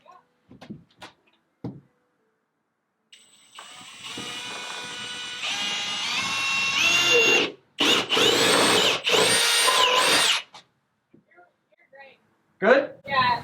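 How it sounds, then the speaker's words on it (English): A Milwaukee power drill with a 4-foot bit whines and grinds through material at a window in a home renovation, in long bursts, revving up and stopping, with brief knocks and handling sounds between runs. "it's a 4-foot drill bit"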